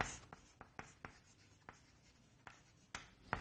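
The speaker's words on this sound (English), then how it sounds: "I'm writing one example here" Marker or chalk writing on a board during a biology lesson, a faint sequence of short scratchy strokes and taps spaced irregularly, close and quiet with no talking.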